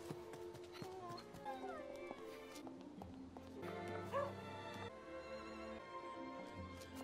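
A cartoon dog in the video game Gravity Rush 2 barks and yips repeatedly over busy game music and effects, the barks close and moderately loud.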